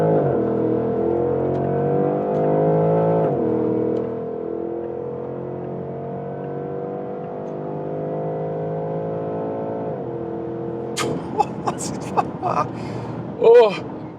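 A Porsche Panamera GTS accelerates uphill, heard from inside the car: the engine's pitch climbs steadily, drops at each gear change and climbs again. A person talks briefly near the end.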